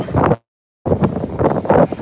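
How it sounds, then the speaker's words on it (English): Gusty wind buffets the microphone in broad rumbling bursts, cut by a brief silent gap, then blustering on steadily outdoors on the deck of the cruise ship Oasis of the Seas. "a little windy out here."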